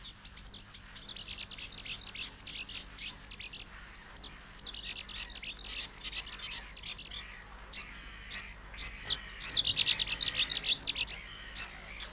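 Cetti's warblers calling near a lake or river, bursts of loud, explosive chirping song repeating every second or two over steady low background rumble, with the strongest, closest phrases toward the end.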